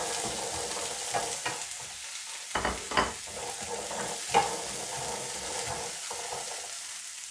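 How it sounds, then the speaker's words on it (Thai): Shallots and garlic dry-roast in a pan for grilled mackerel chili paste, giving a soft steady crackle and sizzle with a few louder scraping stirs and clacks scattered through, no voices present. "เรามาคั่วหอมกับกระเทียมของเรากันนะคะ"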